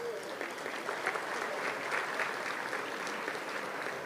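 Crowd applauding at a community foundation philanthropy awards celebration, steady clapping from many hands heard from a distance, even and sustained for the whole stretch.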